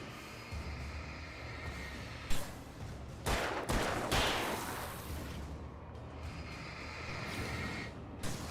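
Revolver shots in Alan Wake ring out as a few separate sharp cracks over a steady, noisy ambient bed, with a couple of closer, louder reports clustered midway.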